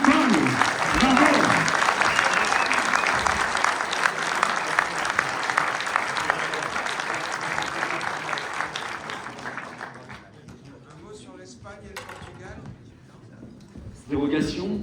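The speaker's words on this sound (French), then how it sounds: "Vous pouvez applaudir Florian parce qu'il déploie une énergie folle" Sustained applause from a conference audience in Thonon fills the room for about ten seconds for a speaker named Florian, then fades as a voice begins talking over a quieter room.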